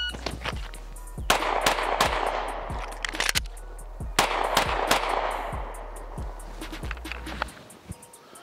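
Pistol shots crack out at a 10-yard range in two quick strings of three with a short reload gap between them, sharp and loud. Several other shots from nearby shooters sound across the range.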